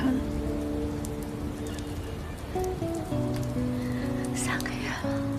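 Rain falls in a steady, soft patter under sustained background music, with no pauses.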